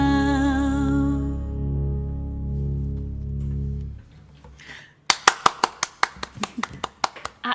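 Audience applause after a song at a songwriter performance: a sustained sung or instrumental note fades out, and about a second of quiet follows before a burst of sharp, loud individual claps sounds close by.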